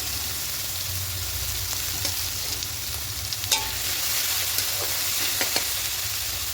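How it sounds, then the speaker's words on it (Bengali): Ginger, garlic, tomato and onion masala sizzles and fries steadily in a pan, a continuous close crackle with a few faint stirring clicks. "ভালো করে কষিয়ে নিয়েছি আদা রসুন টমেটো পেঁয়াজের কাঁচা গন্ধটা চলে গেছে"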